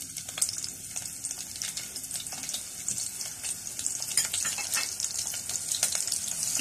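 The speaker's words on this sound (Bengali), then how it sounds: "পেঁয়াজটা একটু হালকা ভেজে নিব।" Chopped medium onion sizzling steadily in hot oil for beef liver bhuna, a continuous close crackle and hiss with small pops throughout and no voices.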